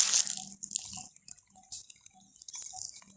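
Thin water from an irrigation tube in a mango orchard dribbles and drips in irregular spurts, close by and fairly quiet, with no one speaking.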